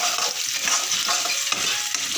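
Cashews frying in hot oil, a steady bright sizzle with faint stirring scrapes throughout, close and continuous with no talking.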